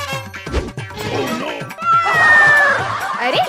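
Cat meowing and caterwauling in a Hindi comedy skit, a loud drawn-out wail following a clattering crash, close and mixed with other voices.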